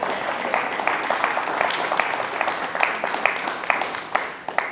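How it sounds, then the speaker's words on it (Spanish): A church congregation applauding together, a dense, continuous wash of clapping that holds steady for several seconds and thins slightly at the end. "denle un fuerte aplauso al Señor"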